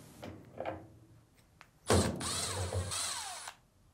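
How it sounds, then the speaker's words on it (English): Screws are removed from the back of a Fisher & Paykel washing machine with a screwdriver or driver, producing faint clicks and scrapes followed by a louder mechanical whirring burst of about a second and a half. "Now remove the two screw covers, ours is missing one, followed by the two screws."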